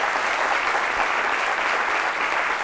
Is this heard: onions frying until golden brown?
no